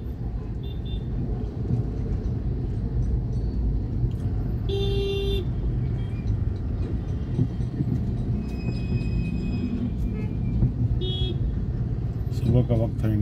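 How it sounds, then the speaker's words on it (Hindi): Busy morning road traffic on Nagavarapalya Main Road in Bangalore rumbles steadily, with a few short car horn toots sounding at intervals and voices talking over the noise. "ट्रैफिक ज्यादा होते हुए"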